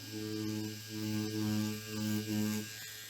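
A Power Wand tattoo machine set up as a 3.5-stroke shader running at about 9 volts gives a steady, close electric buzz with a low hum that swells and dips slightly, and there is no talk.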